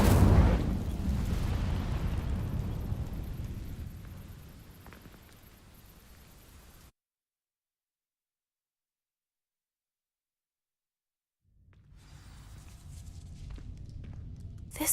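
Incendio fire spell from Hogwarts Legacy setting dry vines alight, a loud whooshing burst that roars and fades over several seconds, then silence before a rumbling crackle returns.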